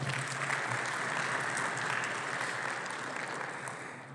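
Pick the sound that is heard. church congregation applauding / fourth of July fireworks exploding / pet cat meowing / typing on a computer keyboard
church congregation applauding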